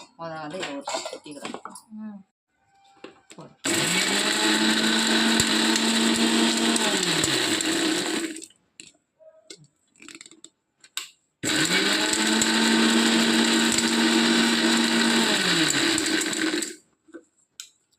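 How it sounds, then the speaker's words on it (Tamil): Mixer grinder grinding spice powder with roasted sesame seeds and salt, running in two long loud bursts of several seconds with a pause between, brief talk before and between them. "இப்போ வந்து பொடி திரிக்க ஸ்டார்ட் பண்ணிட்டாங்க."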